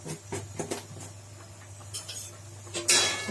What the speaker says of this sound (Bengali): ভালো করে নাড়িয়ে দিলাম